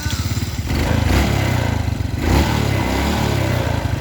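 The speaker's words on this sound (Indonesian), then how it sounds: "Kita coba hidupkan mesin, kita setel baut angin-anginannya ya" A Suzuki Smash motorcycle engine, freshly fitted with its carburetor, runs close by with a rough, pulsing idle that swells briefly as the throttle is blipped twice.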